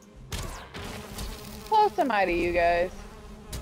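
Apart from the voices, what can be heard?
humming bees at a beehive in the video game Valheim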